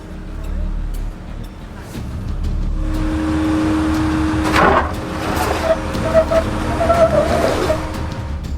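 Toyota Tacoma pickup truck crawling onto a rock off-road, its engine a steady low drone with brief tire scrabbling, while a voice talks over it.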